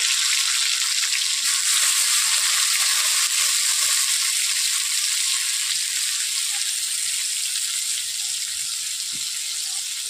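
Chopped tomato, onion and green chili frying in hot oil in a wok, a steady, fairly loud sizzle that hisses continuously throughout without any talk.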